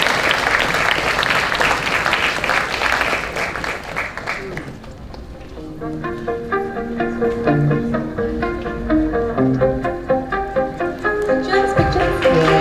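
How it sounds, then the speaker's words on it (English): An audience at a youth entrepreneurship forum breaks into loud, dense applause that fades after a few seconds as music with a steady beat and bright tones takes over, talk faintly mixed in. "Another big round of applause for them."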